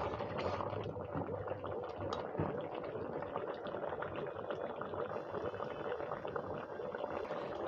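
Chutney boiling in a cooking pan, a steady low bubbling and soft popping simmer, close and continuous without pause.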